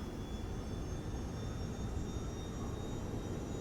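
An H225 helicopter in Microsoft Flight Simulator 2024 runs with its rotor turning. A steady, even turbine drone carries faint high whines throughout, with no speech.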